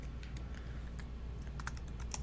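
Code being typed on a computer keyboard, scattered light key clicks in an uneven rhythm over a steady low hum, close and fairly quiet, no talking.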